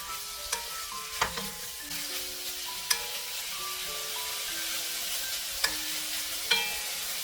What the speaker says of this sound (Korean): 다진 마늘 3분의 1 큰술 넣고 섞어가며 볶아주세요